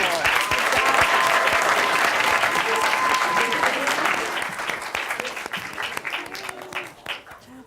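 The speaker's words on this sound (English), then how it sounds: "Can we give a round of applause to all of our teams?" Audience applause for student presentation teams at an academy project showcase, a dense, loud wash of clapping from a crowd that holds steady, then thins and fades toward the end, with a voice faintly audible underneath.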